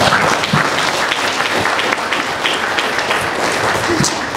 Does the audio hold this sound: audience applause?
yes